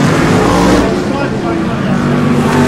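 BriSCA Formula 1 stock cars race at Northampton, a dense, continuous roar of engines at a distance under a commentator's voice over the public address.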